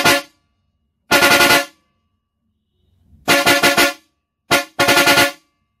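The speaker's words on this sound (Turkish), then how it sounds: "Biri ince biri kalındır arkadaşlar." A pair of original Mitsuba truck horns, one thin-toned and one deep, blare together in loud, close blasts: two separate honks, then a quick run of four short pulses, and finally a short toot and a longer blast.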